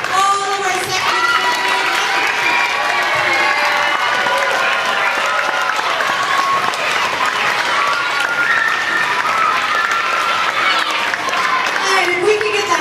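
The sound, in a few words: audience applause and cheering at school performance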